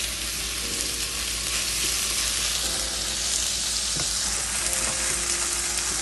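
Salted kefta fries in a pan with a loud, steady, dense sizzle and crackle that fills the whole stretch, close up and with no voices.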